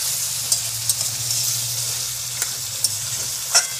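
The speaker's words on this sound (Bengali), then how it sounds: "বসালাম মাংস কষা।" Meat sautéing (kosha) in a pan gives a continuous bright sizzle and hiss, broken by a few sharp clinks of stirring against the pan, close up with no talking.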